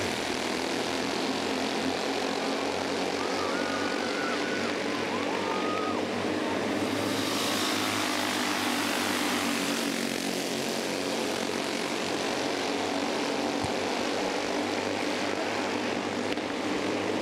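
Stock medium cars racing at Sugarhill Speedway after a green flag restart, a steady, continuous engine roar from a pack of cars that holds for the whole stretch, with one swell passing through midway.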